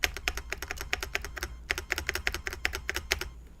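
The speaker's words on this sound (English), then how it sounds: "I'm also not happy with the stabilizer, my space key, because this is what it sounds like." Space key on a mechanical keyboard with an unstable stabilizer, pressed over and over in a quick, slightly uneven run of crisp, clacky taps, close up, with a short pause midway and no talking.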